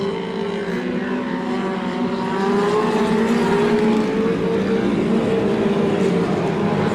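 Stock car engines roar steadily around the track at a Veterans Day Classic race in Porterville, California, with several engine notes climbing and overlapping as the cars power through the turns.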